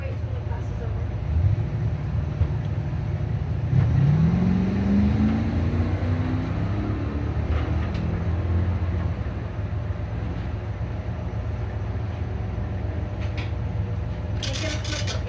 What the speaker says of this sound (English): Paired up the Chevrolets here, Harold Habian. Z28 out of Manistee, taking on the entry number 6, the newer Camaro right side